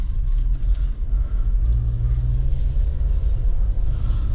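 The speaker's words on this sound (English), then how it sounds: "driving my first time in a Jeep" From inside a 2020 Jeep Wrangler Unlimited Sahara on the move comes a continuous low cabin rumble of engine and road noise, steady and fairly loud, with nothing else standing out.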